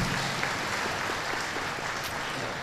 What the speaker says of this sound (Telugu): చాలా గట్టిగా చప్పట్లు కొట్టి ఆనందించుతూ